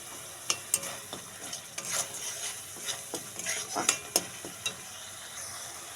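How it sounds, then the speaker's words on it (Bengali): Spices being stir-fried in a pan for a pointed gourd and coconut milk dish: soft sizzling under repeated scraping and tapping of a spoon against the pan, close and uneven. "এইভাবে আমি মশলাটা কষে নেব"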